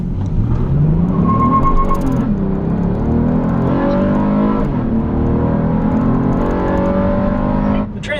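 A 2023 Honda Odyssey's 3.5 liter V6 pulls hard under acceleration, its engine note climbing steadily, dropping at gear changes, then rising again, loud and continuous throughout.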